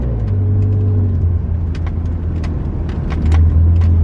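A lowered car drives smoothly from inside the cabin, a steady loud low engine and road rumble with light clicks and rattles above it, and no voices.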